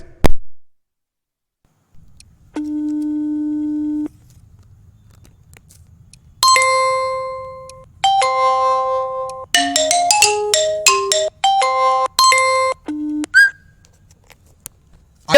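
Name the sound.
default phone ringtone playing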